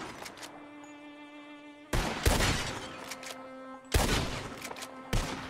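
Revolver shots fired at bottles in the game Red Dead Redemption 2: three loud, sharp cracks a second or two apart, each followed by a brief echoing tail over faint tonal background music.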